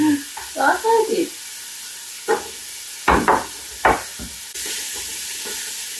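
A carrot for minestrone soup is stirred into a hot pan with a steady low sizzle, broken by a few sharp clacks and scrapes of a spoon. A voice speaks briefly at the start.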